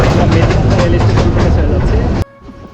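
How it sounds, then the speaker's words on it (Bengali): A Titas commuter local train pulls out of Methikanda railway station with a loud, steady rumble and rhythmic rattling heard from on board, cutting off abruptly near the end. "আমরা এখন মেতিকান্দা রেলওয়ে স্টেশন থেকে ছেড়ে যাচ্ছি"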